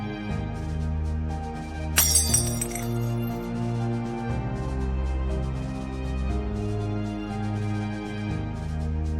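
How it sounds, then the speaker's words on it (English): A glass falls and shatters into smaller pieces, giving one sharp, bright crash with tinkling fragments, heard under a steady droning musical background. "Suppose I have a glass and it falls and breaks into smaller pieces."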